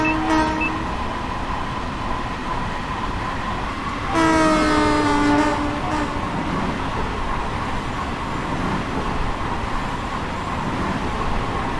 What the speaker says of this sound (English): The horn on this thing actually sounds pretty nice.